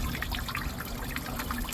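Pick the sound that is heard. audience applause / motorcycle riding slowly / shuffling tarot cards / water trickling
water trickling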